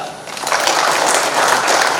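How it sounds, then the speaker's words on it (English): Crowd applause at an alumni tribute gathering, starting softer and rising quickly into dense, steady clapping that holds loud until the end. "A big applause to the people in Karnataka."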